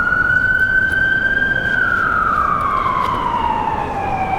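An emergency vehicle siren echoes between tall buildings in downtown Portland, Oregon, a loud, continuous wailing tone that slowly drops in pitch over steady street rumble.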